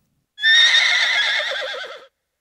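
A single drawn-out whinny from an old horse, loud and close, lasting under two seconds and ending with a wavering tremble, in an otherwise silent setting.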